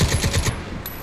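Automatic gunfire in Crysis 3, a quick burst of about five rapid shots over half a second, then a fading tail and a faint high tone.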